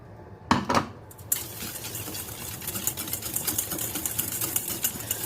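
Egg yolks being beaten with sugar for a vanilla chocolate cake roll, an electric mixer whirring steadily against a bowl after a couple of sharp knocks at the start.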